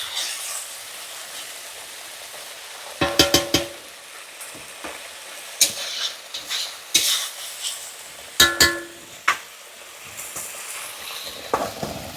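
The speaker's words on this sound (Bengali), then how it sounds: "আমি আলু আর পেঁপেটা হালকা ভাজা ছিল, ওকে দিয়ে দিলাম" Potato and papaya pieces being lightly fried in a pan for a catfish curry, with soft stirring and a few sharp clatters of utensil against pan over a quiet sizzle.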